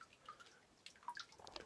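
Spring water trickling and dripping into a container outdoors on a sunny morning in Ecuador, soft and fairly close, with light splashes growing busier toward the end and no talking.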